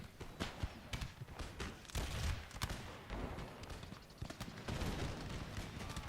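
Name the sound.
musket volley fire in Empire Total War video game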